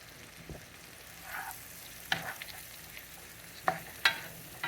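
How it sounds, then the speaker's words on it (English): Vegetables sautéing in a pan for Salisbury steak gravy, a soft steady sizzle broken by a few sharp scrapes and clinks of a utensil stirring, close and fairly quiet with no talking. "you're going to saute these until they're nice and soft"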